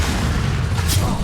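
A Bombarda blasting spell from Hogwarts Legacy goes off as a single loud, close boom with a dense low rumble, heard briefly on its own.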